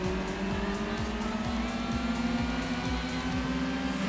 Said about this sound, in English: I think this is a Peugeot 106.